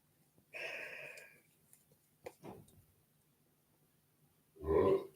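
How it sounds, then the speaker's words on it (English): A boy lets out a loud, close burp near the end, a short low rumbling belch that follows some quieter breathy and snuffling noises in an otherwise still indoor room. "He has just burped to the nation."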